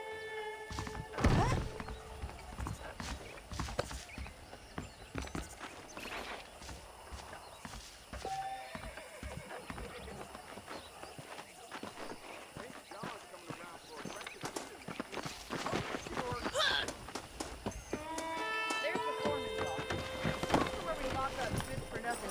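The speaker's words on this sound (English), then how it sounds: "The horses are saddled up over here." Horse hooves clip-clop at a steady trot in Red Dead Redemption, with an occasional whinny, mixed with game music and ambient sounds.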